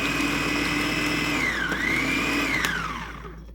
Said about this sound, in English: Now we're going to do the carrots a couple times to make sure it's nice and pureed the way we want.